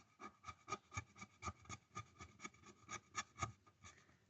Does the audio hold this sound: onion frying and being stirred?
no